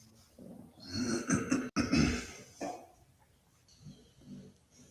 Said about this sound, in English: As you can hear, Gizmo snoring.